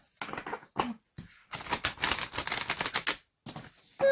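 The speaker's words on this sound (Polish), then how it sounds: "Zobaczmy, jak się tasują. No, jak to te duże karty." A deck of large Queen of the Moon Oracle cards is shuffled by hand, with several quick, close, papery riffling bursts separated by short pauses.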